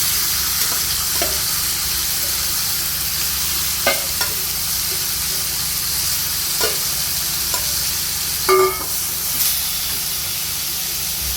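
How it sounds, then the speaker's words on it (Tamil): Chicken stirred and sautéed in hot oil for a gravy, a steady loud sizzle and hiss with occasional scrapes and clinks of the spoon against the pan. "கலக்கிடுங்க. நல்லா கொஞ்சம் நேரம் இப்படியே அந்த எண்ணெயிலேயே வதங்கணும்."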